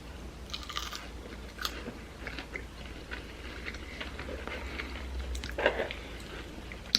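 Biting into battered fish and chips gives a few quiet, close crisp crunches spread over a low background, with soft chewing between them.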